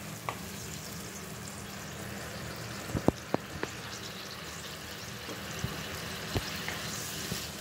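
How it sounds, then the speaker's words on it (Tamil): Brahmi leaf kulambu, a tamarind curry, bubbling in a pot with a soft continuous simmer and a few sharp pops and plops, fairly quiet and close. "நல்லா கொதிச்சுட்ருக்கு"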